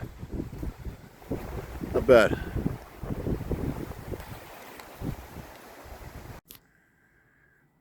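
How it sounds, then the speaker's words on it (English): Wind rumbles and buffets the microphone in low gusts on top of a hill while someone speaks briefly, then it cuts off abruptly into near silence. "It's windy and it's getting cold."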